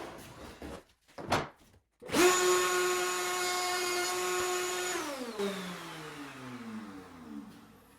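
Power saw making a test cut on a baseboard trim piece: a couple of short bumps, then a loud motor whine that holds steady and winds down as the blade slows, close by.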